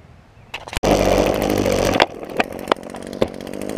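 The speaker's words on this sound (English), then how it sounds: "So I'm gonna hook this thing to the trimmer. Give y'all some trimmer action." Close by, a gas string trimmer starts and revs, with a loud buzzing motor and several sharp throttle surges and dips over a few seconds.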